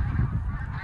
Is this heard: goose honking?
yes